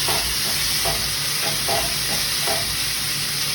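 Ground meat for a tater tot hotdish fries in a pan with a steady loud sizzle while a spatula breaks it up, giving a few soft scraping pushes, close and with no talk.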